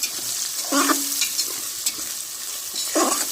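Onions frying in a hot pan, a steady broadband sizzle throughout with a couple of short scraping stirs of a spatula, close and fairly loud, no talking.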